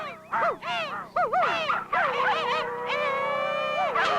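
A voice mimics a crow's caw in a string of harsh, nasal calls, close and loud, rising and falling before settling into a longer drawn-out cry.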